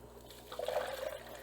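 Warm water poured into a container for brine shrimp, a brief gurgling stream that starts after a short pause and runs for about a second, close and fairly soft, with no talking.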